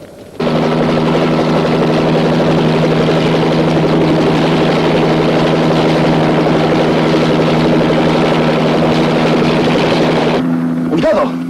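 Helicopter engine in a 1968 Che Guevara war film, a loud, steady droning hum with a continuous rotor beat that holds unbroken for about ten seconds before abruptly cutting off.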